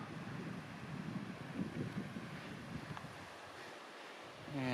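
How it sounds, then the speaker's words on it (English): Waterfall beside the Mt. Whitney trail, a steady broadband rush of falling water with wind buffeting the microphone, continuous and fairly close, no talking. "Look at this beautiful waterfall."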